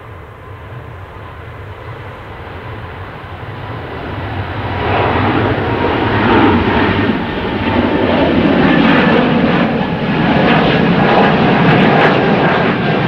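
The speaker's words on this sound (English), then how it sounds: "next we've got Air France Airbus" Air France Airbus A220-300 jet airliner at Manchester Airport, a loud steady jet engine roar that swells after a few seconds and holds strong as the aircraft passes near, with no talking.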